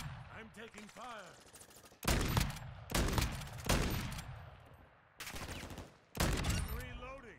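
Bursts of heavy gunfire from a Call of Duty match crash in repeatedly, loud and close, separated by brief lulls, with a voice heard faintly early on.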